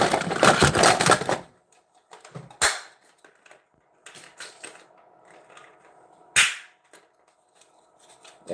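A video game gun fitted with a stock and a 40-round drum magazine fires a few sharp, separated shots, some single cracks and short clusters, after a burst of noise at the start, with no talking.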